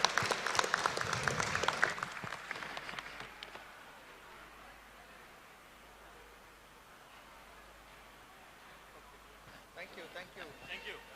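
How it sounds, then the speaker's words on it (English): Applause from an event audience, dense and loud for the first few seconds, then fading to a soft hiss before a smaller burst of clapping returns near the end. "Can we have a big round of applause for the entire team here?"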